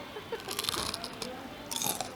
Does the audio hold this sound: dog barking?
no